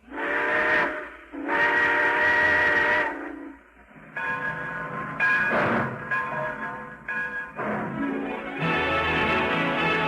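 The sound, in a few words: steam train whistle as train pulls out, radio sound effect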